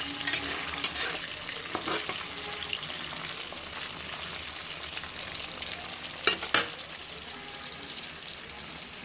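Potatoes and beans sizzle in a frying pan, a steady moderate crackle with a few sharp scraping knocks from stirring.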